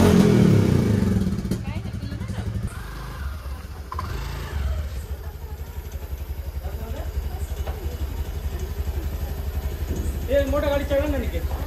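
A vehicle engine runs at Dussehra during a vehicle puja, with a low, steady, pulsing idle throughout. People talk loudly over it, and a brief rising whine comes near the end.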